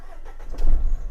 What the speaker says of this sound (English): You've just got to put your foot on the brake and start the car with the start-stop button.